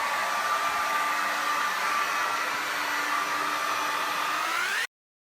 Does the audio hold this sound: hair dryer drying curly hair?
yes